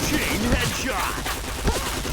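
Gunfire from a shooting video game in headshot practice, dense and continuous with bursts overlapping, heard close under a busy mix of game noise and some voice.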